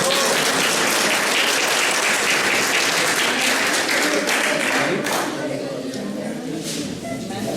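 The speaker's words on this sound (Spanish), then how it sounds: "presentada por Margarita Niño, a la cual recibimos con un fuerte aplauso." Audience at a national congress conference gives a speaker strong, sustained applause, dense clapping that stays loud before thinning slightly toward the end.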